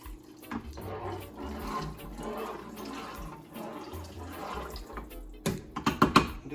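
Water pours steadily into a pot of Jamaican pumpkin soup, a continuous rushing, splashing stream that swells and ebbs, ending in a few louder splashes and clatters near the end.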